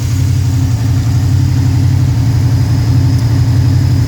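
A Pontiac 428 V8 fed by three two-barrel carburetors runs steadily at a loud, close, throbbing idle, its low rumble constant throughout as the engine slowly builds heat.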